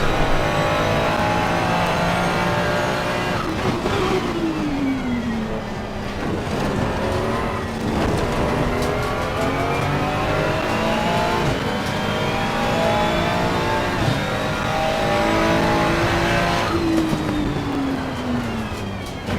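Ferrari race car in a racing video game at Monza, its engine revving loud and continuous as it climbs and drops through gear changes, with occasional tire squeal, no voices.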